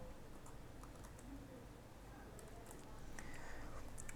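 Soft, scattered clicks of keys tapped on a computer keyboard while a SWIFT code is typed in, faint and irregular over a low steady background hiss.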